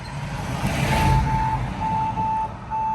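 Collision warning beeps inside a Hyundai Ioniq 5 during an emergency-braking demonstration, a steady series of short, evenly spaced electronic tones over a low road and cabin rumble.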